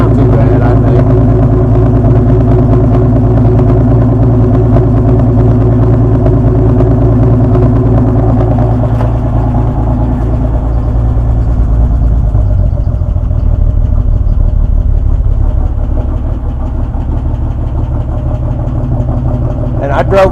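A Ford Econoline diesel engine idles steadily with a low, constant rumble and faint repetitive tapping running through it, loud and close, with no pauses.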